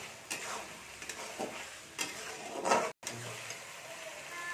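Ginger, garlic and cumin paste sizzling in a hot pan while being stirred, a steady frying hiss broken by scraping strokes of a spatula, close and moderate, with one brief cut of silence.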